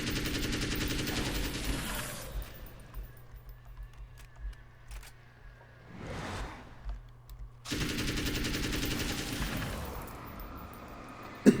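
Two long bursts of loud automatic gunfire in the video game American Nightmare, separated by a quieter stretch with a rising whoosh in the middle.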